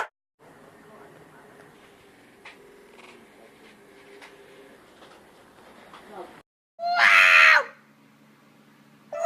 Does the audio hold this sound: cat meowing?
yes